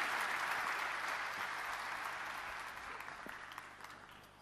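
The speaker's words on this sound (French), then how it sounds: "Vous pouvez l'applaudir." Audience applauding an award winner at the UTBM foundation's Prix d'Excellence ceremony: a full, even round of clapping from a crowd that gradually thins and fades toward the end.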